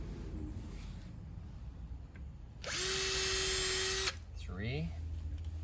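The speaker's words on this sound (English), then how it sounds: "You really got to try drilling Mentos." A power drill whirs into a Mentos candy in one loud, sustained burst of about a second and a half, with a steady whine, set between stretches of background noise and voices.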